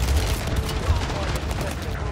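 MW2 AK rifle fire in the Warzone video game rattles in dense, continuous rapid volleys at close range, with a voice talking over the shooting.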